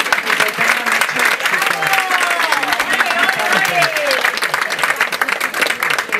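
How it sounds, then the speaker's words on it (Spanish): An audience breaks into dense, sustained applause at a public event in Marbella, a loud continuous wash of clapping with voices talking and calling out underneath. "quiero darle un aplauso"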